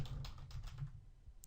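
Quiet keystrokes patter steadily on a computer keyboard at close range, set against a low background hum, and no one speaks.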